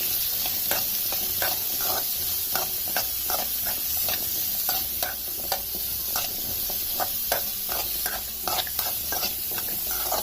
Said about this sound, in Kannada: ಹಾಕಿ ಒಟ್ಟಿಗೆ ಹುರ್ಕೊಂಡಿದ್ದೇನೆ ಇದನ್ನು.